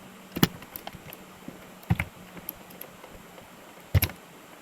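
Computer keys pressed while typing a name into a C++ login and registration program: a few sparse, quiet clicks spaced a second or more apart over faint background hiss.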